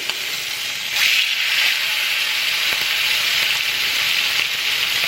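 Loud, continuous sizzling and crackling of chicken frying in hot grease, close up, with occasional sharper pops.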